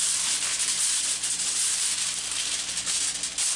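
Aluminum foil being folded around baby back ribs, a steady close crinkling and rustling that runs unbroken throughout without any talk.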